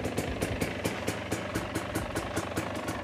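A Husqvarna TE250i or TE150i enduro motorcycle idles just after starting, a steady, close, rhythmic thumping putter with regular pulses and no talk over it.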